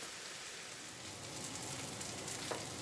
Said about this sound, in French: les oignons ont commencé à caraméliser